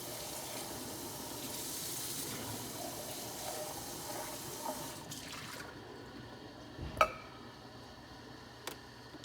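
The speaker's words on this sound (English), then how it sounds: "so please rinse everything off." Water runs from a tap as Breville Barista Express espresso machine parts are rinsed in a sink, a steady moderate wash that fades near the end, followed by two sharp clicks.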